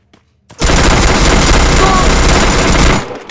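Vector gun fire in the Free Fire video game, a rapid continuous burst of automatic shots lasting about two and a half seconds, loud and close, then cutting off abruptly.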